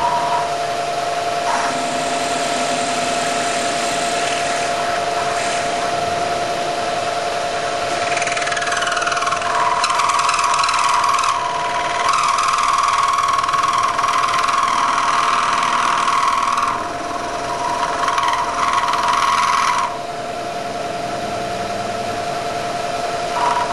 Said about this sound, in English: I've set my machine so that I'll be able to mill a pocket 50 thousandths down